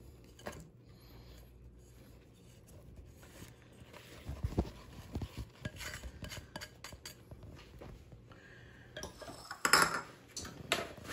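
Flour being mixed into banana bread batter in a bowl, soft irregular scraping and clinking of a utensil against the bowl, quiet at first and growing busier, with a brighter clatter near the end.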